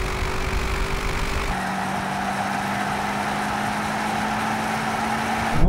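A BMW M8 accelerates in a drag race against an Audi RS7 Performance and an AMG GT63, its engine a steady, continuous drone that drops in pitch partway through and swells slightly at the end, with no talk.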